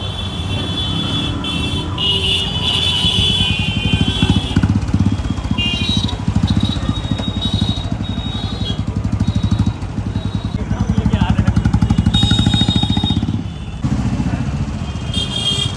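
Modified Royal Enfield Bullet motorcycle engine running steadily and close by, a continuous throbbing drone with voices talking over it throughout.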